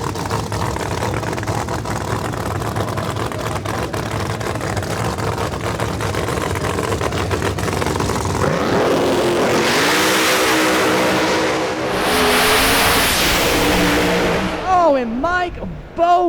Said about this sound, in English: Both cars are fast, both cars are being tuned by Lee White. Both of us are really good at the light, so it's gonna be a drag race.